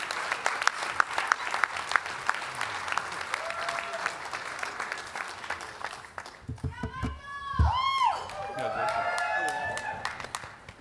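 An audience at the 2016 Butts-Whiting Award ceremony applauds in a dense, sustained wash of clapping for about six seconds before it fades and a voice starts talking.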